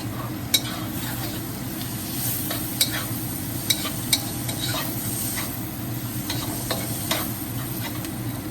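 Lobster tail meat sizzles steadily in a hot pan while a utensil stirs it, with sharp scraping clicks and taps against the pan scattered through the continuous frying hiss, close and even throughout.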